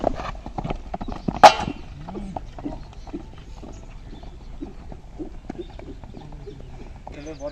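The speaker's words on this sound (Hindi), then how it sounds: "घोड़ा लेफ्ट साइड में नहीं निकलना" Rhythmic hoof clip-clops from a horse in show-jumping training sound under continuous talking, with a sharp louder knock partway through.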